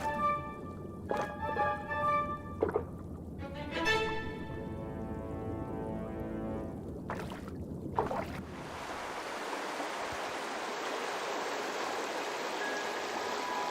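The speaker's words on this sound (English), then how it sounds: "The water coursing through the Wutach Canyon has traveled from the high Alps and made its way through rock crevices, lakes, and streams." Water rushes through the Wutach Canyon in Germany, carrying snowmelt from the high Alps. Scattered tonal sounds come first, then a steady broad rushing flow takes over and continues evenly to the end.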